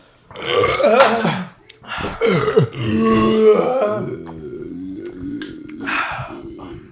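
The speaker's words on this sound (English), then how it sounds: "I had a wet burp there" A long, wet burp rumbles out after someone chugs a drink, loud and close, with gurgling grunts and a few smaller eructations following over several seconds.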